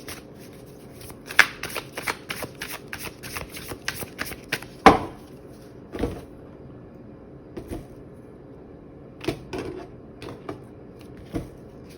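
Tarot cards shuffled by hand at close range, quick soft riffling flutters and sharp card snaps scattered irregularly through a quiet room.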